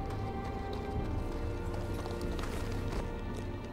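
Horse hooves clip-clop in a steady trotting rhythm in a Game of Thrones video game, set at the snowy wall of the Night's Watch, with game ambience underneath and no talk.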